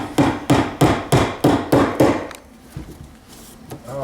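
Hammer strikes driving staples into a wooden 2x4 stud to hold electrical wires during recessed lighting installation; seven sharp, evenly spaced blows close up, then a few lighter taps and quiet handling.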